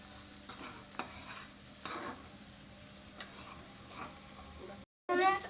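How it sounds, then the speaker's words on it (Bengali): Boiled noodles with egg and spices get stirred in a frying pan, with soft scraping strokes at intervals over a quiet steady sizzle, a short break, and then a louder burst of frying. "এখন নাড়াচাড়া করে নিচ্ছি।"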